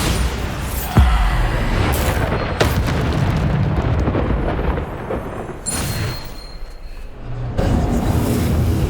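Booming spell blasts from the Bombarda spell in Hogwarts Legacy, loud rumbling explosions repeating every second or two amid dense game noise and impacts.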